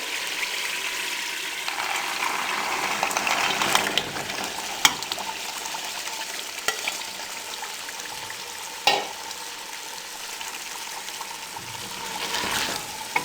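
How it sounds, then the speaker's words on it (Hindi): Mixed vegetables fry in a masala base, giving a steady sizzle throughout with scraping stir strokes and occasional sharper clicks of a spoon against the pan. "अब इनको 5 से 7 मिनट अच्छे तरीके से इनको भून लें"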